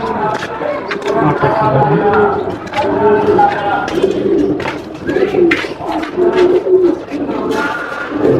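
Pigeons in a loft, teddy 128 high-flying birds, cooing in soft repeated throaty rolls from several birds nearby, with people talking over them throughout.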